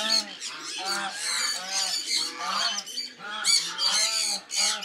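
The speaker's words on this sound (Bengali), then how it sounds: "ওদিকে গেলে তো কথার আওয়াজের চাইতে পাখির আওয়াজে বেশি শোনা যায়।" Birds in a pet bird colony call in overlapping, honking cries, a dense chorus of loud, repeated harsh calls rising and falling in bursts close by.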